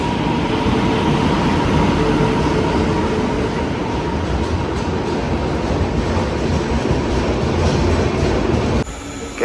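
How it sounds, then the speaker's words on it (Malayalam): Loud, steady rumble of the Alappuzha–Dhanbad Express rolling into Palakkad Junction, hauled by a WP7 locomotive, with continuous wheel and carriage noise and faint squeals throughout, ending in a sudden shift near the close. "10:00 വരേണ്ട ആലപ്പുഴ ധൻബാദ് എക്സ്പ്രസ് ആട്ടോ 3 മണിക്കൂർ ലേറ്റായിട്ട് ഇപ്പോൾ പാലക്കാടിൽ 1:30 വന്ന് കയറിയിരിക്കുകയാണ്"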